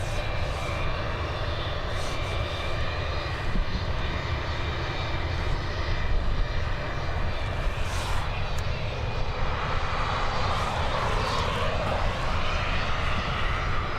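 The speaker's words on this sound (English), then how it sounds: "Heading over to London Heathrow now with this A320 operated by BA." A British Airways Airbus A320 jet at Dublin Airport gives a steady, loud engine roar that holds through the whole stretch with no voices over it.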